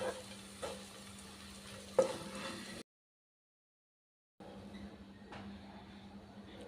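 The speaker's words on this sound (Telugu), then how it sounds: "మిగతా గోంగూర అంతా కూడా సేమ్ ఇదే విధంగా ఈ ప్రాసెస్ తోటి ఆయిల్లో చక్కగా ఫ్రై చేసుకుందాం" Gongura sorrel leaves frying in oil for a pickle, a quiet crackling sizzle with occasional stirring clicks near, broken by a pause of silence before the frying resumes.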